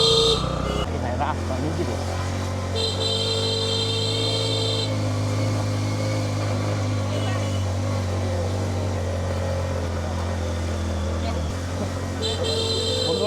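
A Honda motorcycle carrying three people rolls along with a steady, droning engine hum and road noise, interrupted briefly by a couple of horn toots, while a voice talks over the ride.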